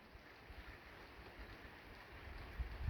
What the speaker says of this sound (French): C'est la pluie qu'on entend.